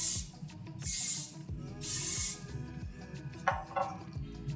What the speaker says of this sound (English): I'm gonna spray it with a little hairspray so that it stays